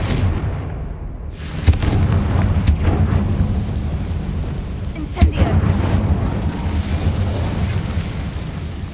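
In Hogwarts Legacy, a Confringo fire spell sets off two sharp, close explosion bursts several seconds apart, each followed by a low rumble over a steady bed of game ambience.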